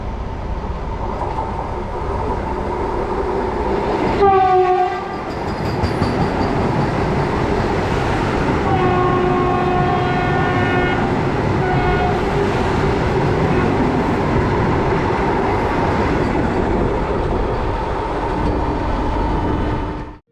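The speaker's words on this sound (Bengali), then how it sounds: "দেরাদুন আনন্দ Bihar terminus Vande Bharat express cross করছে মুসৌরি এক্সপ্রেসকে" An Indian Railways Vande Bharat Express running from Dehradun to Anand Vihar Terminal passes the Mussoorie Express, heard from on board as a steady loud rumble with a squealing, whistling swell midway and continuous wheel noise.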